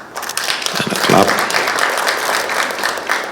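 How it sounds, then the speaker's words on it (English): Applause from a crowd of officials and guests at an MOU signing ceremony in Kenya, a dense wash of clapping that swells and holds steady with some voices mixed in underneath. "And a clap."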